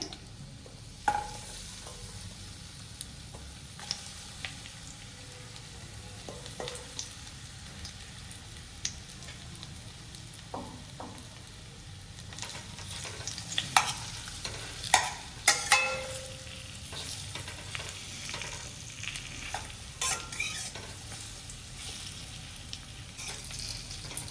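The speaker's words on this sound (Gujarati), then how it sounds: "ત્યાર પછી આપણે આ ઘીમાં આપણે શેકી લઈશું।" Soft dates for date biscuits roast in ghee in a pan, giving a quiet, continuous sizzle broken by scattered scrapes and clinks of stirring that grow busier midway.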